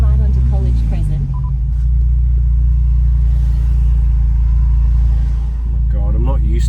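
Steady low rumble from inside a car moving through Melbourne city traffic, with engine drone and road noise throughout and a voice speaking over it.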